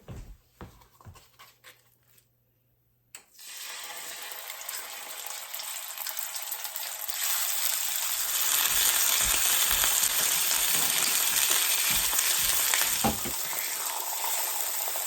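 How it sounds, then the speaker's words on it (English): Pork chops go into a hot pan: after a few quiet handling knocks and a brief hush, a loud sizzle bursts in and keeps building into steady close frying, with no talking heard. "I'm going to put the pork chops in here."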